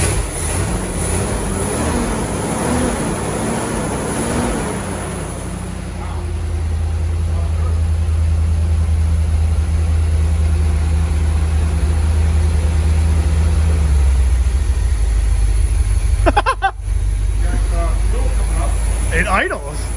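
A 1973 Corvette Stingray that sat unmoved for 20 years idles in park, a steady low engine rumble that swells and holds evenly and close, with a brief clatter near the end.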